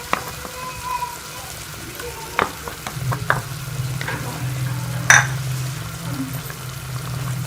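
Italian chicken sizzling in a pan as spices and tomato ketchup are stirred in, with a steady close frying hiss broken by scattered spoon clinks and scrapes against the pan.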